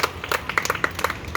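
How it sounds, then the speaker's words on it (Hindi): A crowd claps in steady applause at a Mother's Day stage event, with dense overlapping hand claps close by and no voices over them. "तालियां बजाइए"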